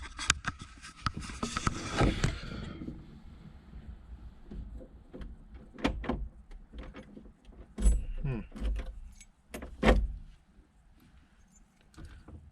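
Keys jangle and scrape in the ignition of an 1988 IROC-Z, heard as several short metallic rattles and clicks at close range with quiet gaps and some car-interior handling noise.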